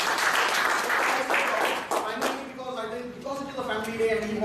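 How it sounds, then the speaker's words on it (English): A Toastmasters meeting audience claps in applause for a couple of seconds, then it fades as a voice starts speaking. "give him a round of applause"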